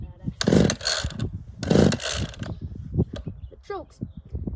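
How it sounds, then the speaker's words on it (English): Two short bursts of a chainsaw engine sputtering as it is cold started, each catching briefly then dying, followed by pull-cord rattles and handling noises up close. "I suck at starting chainsaws."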